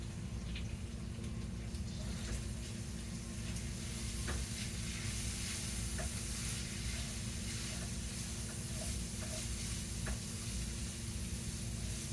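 Ground burger meat frying in a pan for homemade spaghetti gives a steady, soft sizzle and hiss throughout, with faint scattered pops and no voices.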